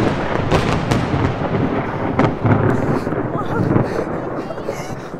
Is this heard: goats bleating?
no